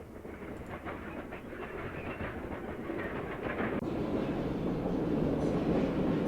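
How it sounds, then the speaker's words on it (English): Train passing in an indie video game, a dense rumbling rush with faint clickety-clack that swells steadily louder and fuller over several seconds, with no voices. "here's this train sound again"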